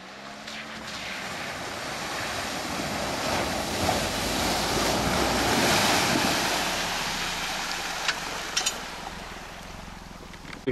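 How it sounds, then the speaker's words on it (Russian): A vehicle pushes through a deep puddle on a forest road, a long rushing wash of water and splashing that swells and fades, with wind buffeting the microphone and a few sharp knocks near the end. "Ну вот она, наша третья лужа, самая глубокая, вроде как. Сейчас тоже будем ее штурмовать."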